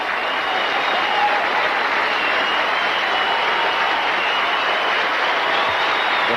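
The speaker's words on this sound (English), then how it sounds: "The crowd is applauding the young quarterback from Yale who is taking the cart into the dressing room" A football stadium crowd in Buffalo, at an NFL game between the Eagles and Bills, applauds an injured quarterback with a steady, distant wash of clapping and crowd noise that holds without a break.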